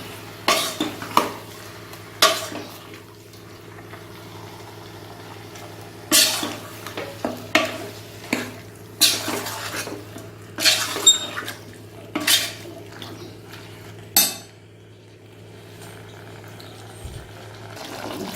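Mutton gravy being stirred in a pot with chili powder mixed in, heard as sharp intermittent scrapes and clinks of a spoon against the pot over a faint low simmer, close and without speech.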